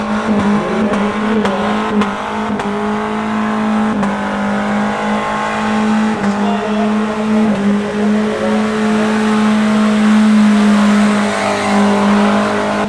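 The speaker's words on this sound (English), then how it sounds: "It's a lot better of a burnout than I thought a hard body could do" A hardbody pickup truck does a burnout at an outdoor event, its engine holding a loud, steady high-revving drone with small pitch dips as the throttle wavers, close and continuous.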